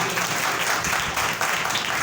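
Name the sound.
congregation applauding loudly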